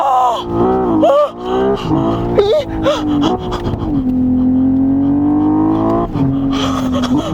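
A Hyundai Ioniq 6 N driven hard on a circuit gives a loud, droning synthetic engine note that climbs and dips with repeated gear shifts, holding a long steady tone in between.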